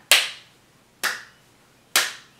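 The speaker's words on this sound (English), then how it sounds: "Can you clap your hands like this to make a rhythm?" Three sharp, close hand claps ring out about one second apart in an even, slow rhythm, each decaying quickly into quiet.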